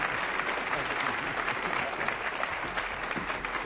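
A Spanish television studio audience in 1994 gives a steady round of applause, dense uniform clapping sustained without a break for several seconds.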